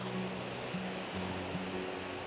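Waterfall near a reservoir: a steady, full rushing roar of falling water, constant and fairly loud throughout with no voices, alongside a faint low tonal hum.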